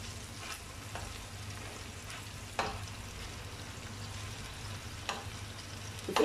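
Lebanese sausage fries quietly in a pan with a soft, constant sizzle, broken by a few sharp clacks as the pieces are turned over.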